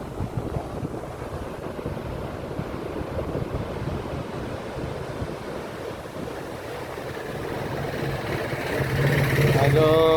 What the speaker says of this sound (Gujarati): કેવો દરિયો છે